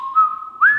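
A person whistles a short, clear tune: a steady held note that swings up to a higher pitch near the end. It is loud and close, with no talking.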